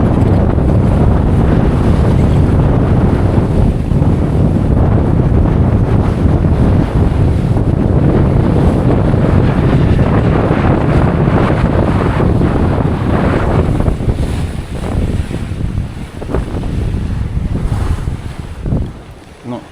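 Strong wind of about 30 knots roars and buffets the microphone over rushing, splashing sea water from a sailboat, loud and continuous, easing somewhat near the end.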